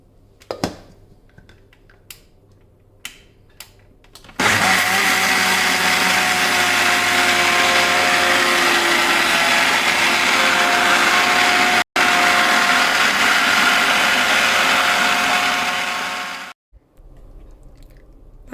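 A mixer grinder grinds soaked rice for idli and dosa batter, a loud steady whirring motor run that starts abruptly, cuts out for a split second, then winds down, with a few faint clicks before it starts.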